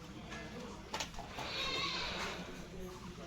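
Goats bleat a few times at close range while being fed roti and grass at a home where animals are looked after, with scattered rustling and a soft background murmur.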